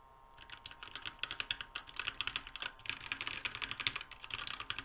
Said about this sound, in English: Here's an idea of what the red switches sound like.